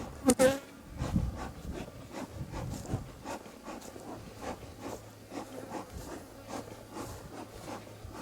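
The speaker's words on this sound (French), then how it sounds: "On est en plein essaimage" A honeybee swarm buzzes in a dense, continuous drone during swarming season, with a few sharper nearby bee passes and small handling noises close by.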